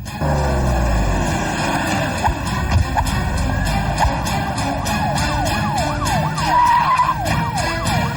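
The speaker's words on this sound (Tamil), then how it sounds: "வண்டி எடு" A car engine rumbles and pulls away, rising as it moves off, then a wailing siren sweeps repeatedly over the traffic noise near the end.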